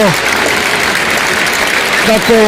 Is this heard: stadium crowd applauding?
yes